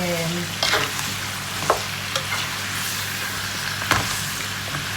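Zucchini sautéing in olive oil over low heat gives a steady, soft sizzle, broken by a few scraping stirs of a utensil against the pan, with no voices.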